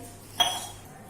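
A single sharp clink of dishes knocking together, brief and bright, then fading into quiet background.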